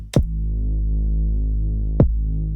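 Deep 808 and synth bass drone dips under two sharp kick drum hits, ducked by a sidechain limiter so each kick punches through; no voices.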